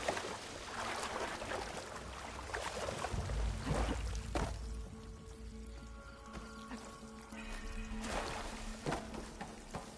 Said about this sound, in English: A lot of water in here.